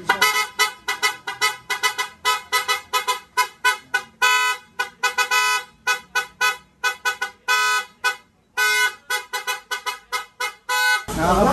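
A newly fitted Piaa dual car horn blares very loudly at close range in a rapid series of short honks broken by a few longer blasts, harsh and piercing with no talk over it.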